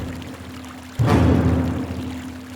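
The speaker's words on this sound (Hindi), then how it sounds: "लगता है इसने फिर से नल खुला छोड़ दिया।" A tap left open in a home suddenly gushes at about one second, a loud steady pour of running water that continues to the end, with no talk.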